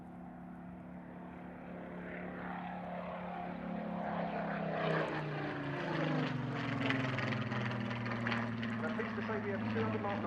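A Spitfire Mark 19 with its powerful engine roars past in a flying display, the propeller drone rising and swelling with a falling pitch as it passes, and a voice talks over it.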